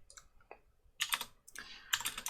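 Typing on a computer keyboard in two quick bursts of clattering keystrokes, close and clear, with a short pause between them and no talking.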